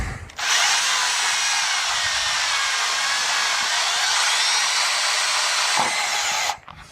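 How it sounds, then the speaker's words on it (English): A power drill boring through a plastic filament dryer container, a loud, continuous high-pitched whine that starts abruptly, holds steady for about six seconds with slight pitch wavering, then stops sharply. "So yeah, I'm going to do the rest of this drilling off camera."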